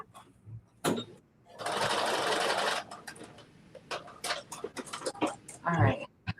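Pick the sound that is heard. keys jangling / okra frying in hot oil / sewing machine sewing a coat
sewing machine sewing a coat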